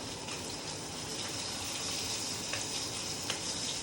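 Salmon fillets searing in a hot pan on high heat, a dense, continuous sizzle and crackle that stays loud and even throughout, with no voices over it.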